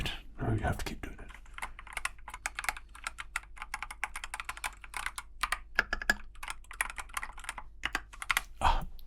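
Rapid, irregular clicking of a computer keyboard or mouse buttons during gaming goes on continuously at close range, with bursts of fast taps and brief pauses, and a few soft voice sounds mixed in.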